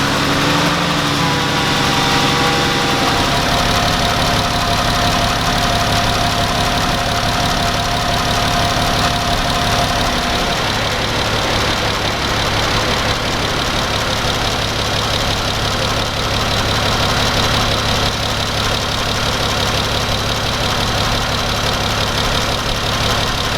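A Dodge Grand Caravan 3.6 V6 engine idles steadily and loudly from start to finish, a constant low rumble with a brief higher whine early on, heater on maximum heat with low fan.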